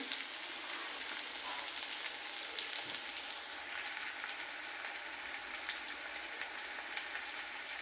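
Curry leaves and onion frying in a pan for a homemade bombil (Bombay duck) curry, a steady close crackling sizzle with light spattering throughout, no talking.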